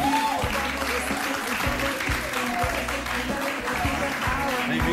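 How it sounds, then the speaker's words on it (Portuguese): A TV studio audience applauds steadily through the whole stretch, a dense, even roar of clapping welcoming a guest onto a Portuguese entertainment show, with a low musical bed underneath. "Eu peço uma grande salva de palmas"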